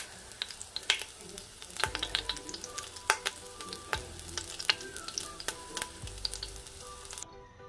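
A beef pot roast sears in an Instant Pot, a close, crackling sizzle with frequent sharp pops and spits and a few dull knocks as the meat is slid around.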